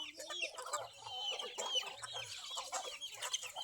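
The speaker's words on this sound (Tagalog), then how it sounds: "dami kong chicken" Pet chickens clucking while being fed, a close, busy run of overlapping clucks and chatter with no talk over it.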